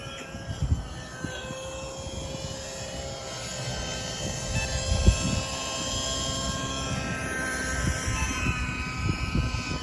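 A simulated helicopter lifts off in the Mikado Flight Trainer video game, its rotor and engine drone humming steadily at moderate volume with a low, fluttering rumble and faint thumps throughout.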